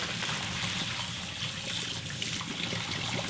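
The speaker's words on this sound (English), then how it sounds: "let's wash noodles" Cooked noodles are rinsed and rubbed under running water, a continuous close splashing trickle with no talk.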